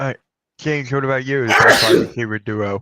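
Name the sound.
sneeze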